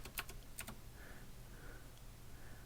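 Keys on a desktop computer keyboard are pressed in a short quick burst of clicks, then a pause with faint scattered sounds, quiet and close.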